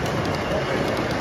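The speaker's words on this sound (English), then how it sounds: "Got an army train here." A model army train loaded with tanks runs along a toy track at a train collectors' show, giving a steady close rumble and rattle of wheels without pause.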